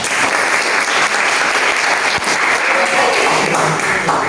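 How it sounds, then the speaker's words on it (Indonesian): Classroom applause during a teaching session, a steady, loud round of clapping from a group of students that lasts several seconds without a break. "oke, beri aplaus"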